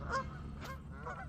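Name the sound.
geese honking as they fly off a lake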